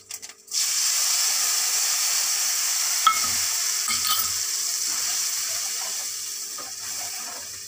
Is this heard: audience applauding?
no